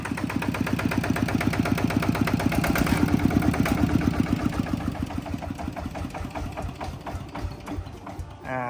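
Used Kubota walk-behind tractor engine runs with a steady, rapid low chugging that eases slightly toward the end, close by, with a voice faintly under it.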